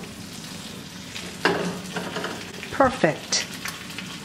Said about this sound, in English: flip the egg back over